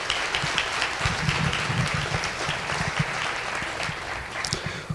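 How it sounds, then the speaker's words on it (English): An audience at a live-streamed local event applauds the sponsors, a steady, even wash of clapping that holds for the whole stretch with faint low murmuring beneath. "Give them a round of applause for their support."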